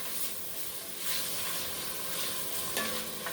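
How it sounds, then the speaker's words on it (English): Salt and pepper seasoning being stirred through food in a frying pan, with a steady broadband sizzle and soft scraping strokes running throughout, fairly close and with no talking. "I'm going to season it with salt and pepper. Give it a stir."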